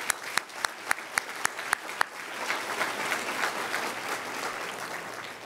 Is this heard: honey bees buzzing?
no